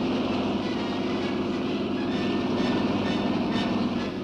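Bell helicopter acting as an emergency ambulance on an aircraft carrier deck, a steady loud rotor and turbine drone with a broad, unbroken roar throughout and no speech.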